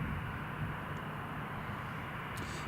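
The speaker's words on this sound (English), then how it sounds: "Yep, that's the Dreamliner pushing." A Boeing Dreamliner pushing back at Newcastle Airport, heard only as a faint, distant, steady engine drone.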